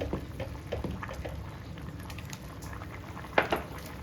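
Raw mango for maangai koozh simmers in a pot, soft bubbling and patter at low volume with a couple of sharper pops near the end and no talk.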